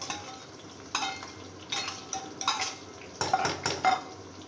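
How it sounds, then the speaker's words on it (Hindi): Onions go into a cooking pot on a stove, with metal clinks, scraping and stirring knocks in scattered bursts over a faint sizzle, heard close and alone. "ये डाल दिया मैंने प्याज इसके अंदर"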